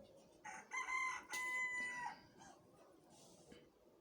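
A bird known as Demadou or Koum gives a few loud, harmonic, crowing calls in short bursts over a quiet background, then goes silent.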